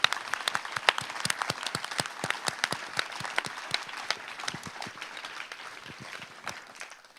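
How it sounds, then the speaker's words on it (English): Audience applause at a lightning talks event, honoring the organizers: a steady patter of many hands clapping, fairly close and full, holding through and tapering slightly toward the end with no talk over it. "So I want you to give a round of applause to all these people."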